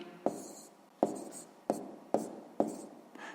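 Pen scratching on paper while working a sixth-grade math exercise: five short, crisp strokes in an uneven rhythm, close and quiet, with no voices.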